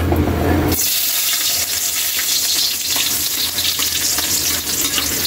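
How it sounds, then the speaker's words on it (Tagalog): Chopped garlic hits hot chicken oil in a pan and sets off a loud, steady sizzle that runs continuously after a sudden start, with no talking. "mainit na yung mantika natin. Chicken oil natin, ilagay na natin ang ating bawang"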